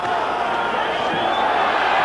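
Steady roar of a boxing match crowd during a late-round bout, a dense continuous murmur of many voices that stays loud and unbroken throughout.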